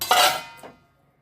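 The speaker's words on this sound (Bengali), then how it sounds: "ঢাকাটা খুলে আমি একটু নেড়ে দেবো" A pot lid of jhal polao is lifted off with a metallic clatter, followed by a brief scraping stir inside the pot, close and quiet, then fading to silence.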